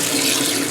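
Hot water pours from a kitchen tap into a container, a dense, close, steady rushing stream for a brief moment.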